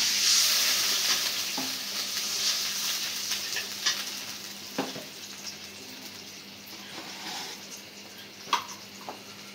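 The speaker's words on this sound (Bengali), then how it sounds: "পেঁয়াজ ভাজা হয়ে গেছে, এখন মশলা কষানোর জন্য একটু পানি দিয়ে দিচ্ছি।" Onions and spices frying in a pan for a rohu fish do-peyaza, with water added and a steady sizzle throughout, stirred now and then with light scraping clicks, close and moderately loud.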